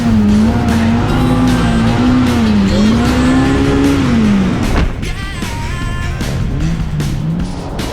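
A Polaris RZR Pro R side-by-side tears through sand dunes, its engine roaring loud and close with rising and falling revs, then easing off to a lower drone.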